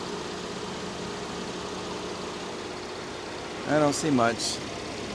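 Used car with a 100,000-mile engine at a salvage auction lot, idling a little rough as a steady low hum, with someone briefly speaking over it near the end.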